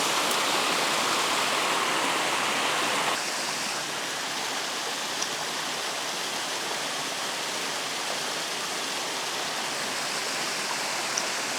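A waterfall in the Southern Forests of Western Australia roars in a continuous broadband rush, loud and close throughout, steadying slightly after the first few seconds.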